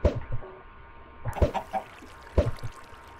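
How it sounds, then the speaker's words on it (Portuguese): Chickens in Minecraft cluck in short, close bursts, three separate clusters of clucks over a few seconds with quiet gaps between them. "Nossa, galinha."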